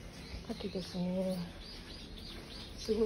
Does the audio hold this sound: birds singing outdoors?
yes